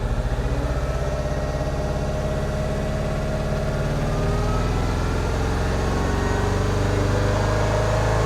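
A rebuilt Mini Cooper S engine idles close by running rough, with a lumpy, uneven low rumble, continuous and loud without any talking.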